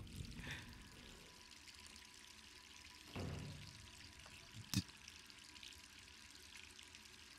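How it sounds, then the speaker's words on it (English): Water runs from a tap in the Resident Evil 3 Remake video game, a faint steady pouring stream under quiet game ambience, with a couple of brief knocks and clatters and no speech. "The water was running."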